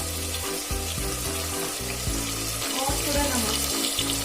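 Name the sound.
spices and vegetables frying while stirred for khichdi pulao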